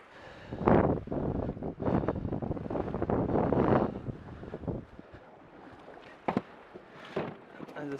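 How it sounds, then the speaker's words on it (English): Big waves roll onto a Puget Sound shore in heavy surging washes, broken by gusts of wind buffeting the microphone, then ease off into quieter lapping with a few sharp splashes. "Big waves coming in."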